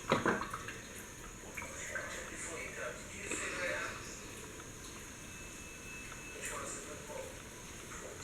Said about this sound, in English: And then pour the boiling water on them.